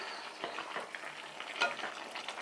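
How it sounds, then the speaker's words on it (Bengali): A spoon stirs boiled vegetables, including drumstick pods, into spiced masala in a pan, giving soft scraping strokes over a faint sizzle, quiet and close with small irregular bumps of movement. "এবার সব সবজির সাথে মশলাটা এভাবে মিশিয়ে দিচ্ছি"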